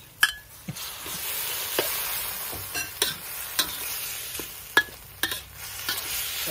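Shrimp stir-fry in a hot pan with sator beans, a constant sizzling hiss broken by sharp, irregular scrapes and clacks of a spatula against the pan, close and fairly loud, with no talking.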